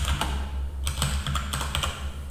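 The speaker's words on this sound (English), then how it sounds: "open the chat by pressing T and type the following command" Someone types a command on a computer keyboard for a Minecraft hacked client, with clusters of quick, close key clicks separated by short pauses, heard alone and fairly quiet.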